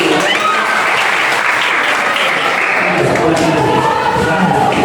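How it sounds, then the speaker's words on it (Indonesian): A class of Indonesian eighth-grade students claps loudly together in their classroom, a steady, full burst of applause from many pupils, with some voices mixed in. "Tepuk tangannya dulu."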